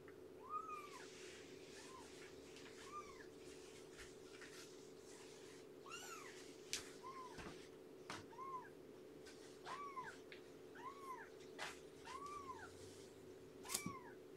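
A kitten meows repeatedly in short, high, rising-falling calls, some in quick pairs, fairly close but soft over a steady low hum, with scattered small clicks and no voices.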